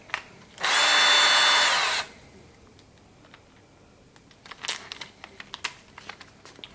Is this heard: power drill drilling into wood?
yes